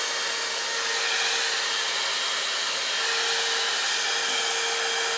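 A Head Kandy blow dry brush runs steadily, its constant whooshing hot-air hiss with a faint motor whine held at an even, close, loud level throughout, with no voices.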